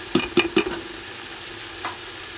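A biryani masala base fries in a pan. Three quick, ringing metallic clinks of a spoon against the pan come first, followed by a quieter, even sizzle and one softer knock, with no voices.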